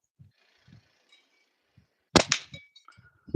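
Gunfire at an outdoor shooting session aimed at a steel target, heard as a loud, sharp blast with a quick follow-up crack, preceded by faint low thumps and followed by scattered light knocks.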